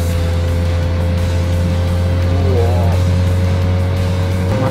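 A Honda Civic FK7 engine holds high revs through quick upshifts on a mountain pass, its steady loud drone and harmonic whine running throughout with a brief pitch dip mid-way, heard from inside the car.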